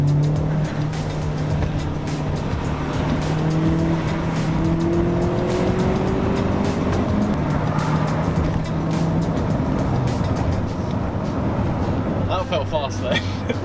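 A small 1.4-litre car accelerates hard, its engine droning and climbing in pitch through rising revs, loud and close from inside the cabin with road roar throughout and brief voices near the end.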